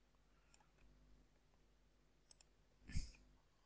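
Sparse computer mouse clicks sound in a quiet room, a few isolated sharp ticks followed by a louder double click near the end.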